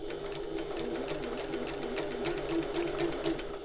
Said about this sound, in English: I'm going to sew up this line, moving my pins as I go